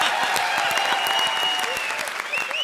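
A comedy show audience claps loudly and continuously, a close wash of dense applause with a faint tonal note running underneath.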